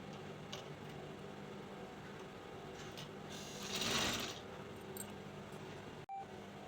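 A sewing machine stitches the belt joint of a lehenga. It runs as a steady, fairly faint mechanical whir for the whole stretch, swelling briefly near the middle and cutting out for a moment near the end.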